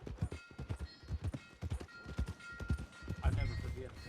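Horse hooves clip-clop in a steady trotting rhythm in the Red Dead Redemption video game, close and moderately loud, under a voice talking over them.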